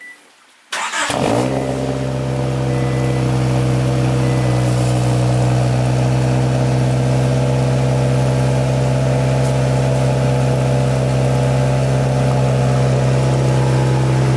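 A 1986 Honda Prelude Si fitted with a new exhaust cranks and fires from cold after a brief quiet moment, then settles into a steady, loud, close idle that hums on without talk.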